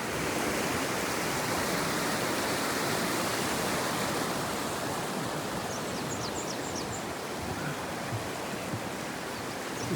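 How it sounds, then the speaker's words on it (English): Fast-flowing floodwater of the Avon River bursting its banks in late winter, a loud, steady broadband rush and roar that continues unbroken throughout, close by, with no talk. "To show you here how fast"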